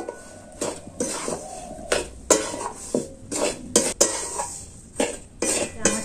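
Roasted, ground sago powder being mixed by hand or spoon in a metal pan with the heat off, for sago ladoo: repeated scraping and clinking strokes of utensil against pan, close and fairly steady, with no talk.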